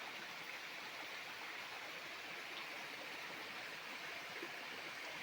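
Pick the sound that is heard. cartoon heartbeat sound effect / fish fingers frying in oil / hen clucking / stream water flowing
stream water flowing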